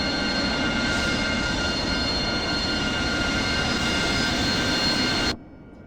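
AV-8B Harrier taxiing out in the DCS game, a loud constant jet engine roar with a high whine that cuts off abruptly near the end.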